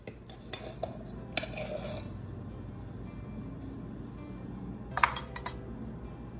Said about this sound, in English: I whisk the dry ingredients together